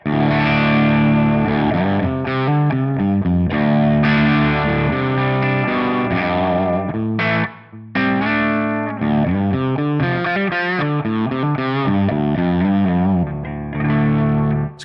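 An electric guitar runs through a Moon normal amp model set to an edge-of-breakup, pushy tone, playing dense riffs and chords continuously. The sound is loud, full and slightly gritty, with a brief pause midway and no voices.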